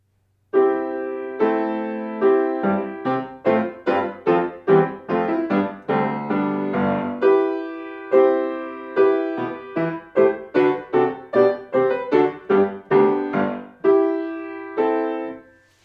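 A solo piano plays Grieg's Sailor's Song, Op. 68 No. 1, a lively melody with chords and octaves, notes struck clearly in a steady rhythm at moderate volume, no voices.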